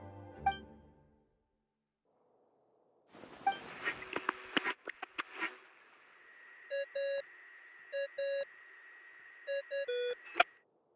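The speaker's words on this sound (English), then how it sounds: "What's that ringing?" Ringing in the Genshin Impact video game comes as repeated short electronic tones in evenly spaced bursts after a brief scuffle of movement sounds, fairly clear and alone.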